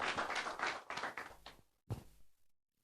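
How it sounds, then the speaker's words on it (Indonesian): A church congregation at a Christmas service applauding, a burst of brisk clapping that fades over about a second and a half, followed by a few final claps before silence. "tepuk tangan buat Yesus Kristus Tuhan."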